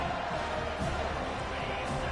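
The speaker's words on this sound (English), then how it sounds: "This crowd trying to show them what it's going to be like all day in this house" Crowd noise in a packed college football stadium during a kickoff return, a steady, loud wash of roaring fans that holds level for the whole moment with no clear breaks.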